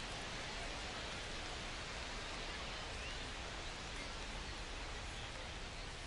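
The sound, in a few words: rain falling on ballpark in MLB The Show 25 video game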